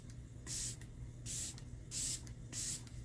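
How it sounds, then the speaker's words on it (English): LYS Blur, Mattify, and Set makeup setting spray mists onto a face in four short, close hissing bursts, evenly spaced with brief quiet gaps between. "So I like to do a light layer of setting spray now"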